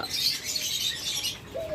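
Caged pet birds for sale chirp and call in bright overlapping bursts nearby, with a short rising whistle-like note near the end and a faint flutter.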